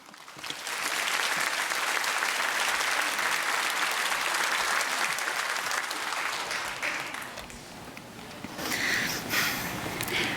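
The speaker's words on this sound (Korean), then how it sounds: "큰 박수로 그렇게 맞이해 주시면 감사하겠습니다" A church congregation at a Sunday service applauds to welcome a young woman coming forward, a broad wash of clapping that swells, eases off near the end, then briefly rises again.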